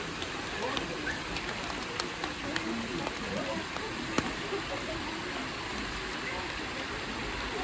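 Steady rain falls in Penglipuran village, Bali, a dense, even hiss of drops hitting surfaces with a few sharper ticks, moderately close and continuous throughout, with no talk.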